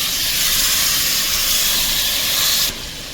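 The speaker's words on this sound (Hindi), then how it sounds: "तो बस इसकी अच्छे से भुनाई करते हैं मीडियम फ्लेम पर 5 से 7 मिनट" Mutton coated in spice paste roasting in a pan over a medium flame gives a loud, steady hiss and sizzle that drops abruptly near the end, with no one talking.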